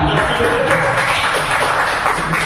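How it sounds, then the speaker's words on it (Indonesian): Applause from an audience at an Indonesian school or community gathering. It comes as a steady, dense wash of clapping that fills the whole moment, with some mixed background noise. "terima kasih tepuk tangan"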